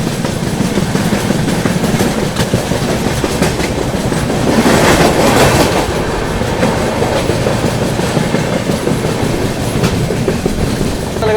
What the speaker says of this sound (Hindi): अपनी पाटलिपुत्र सुपरफास्ट एक्सप्रेस ने स्किप कर दिया है बिना रुके दिलदार नगर जंक्शन रेलवे